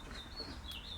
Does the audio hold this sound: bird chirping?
yes